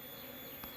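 Honeybees drone in a faint, steady buzz for under a second, a low insect hum close by with no speech over it.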